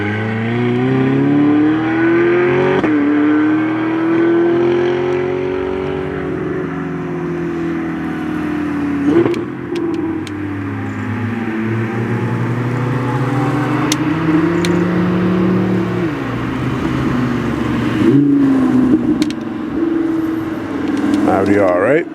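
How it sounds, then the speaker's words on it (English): Ferrari supercar accelerating along the Curborough sprint course, a loud engine roar rising and falling through several gear changes as it passes fairly close, with a voice talking over it. "Here comes the Ferrari again."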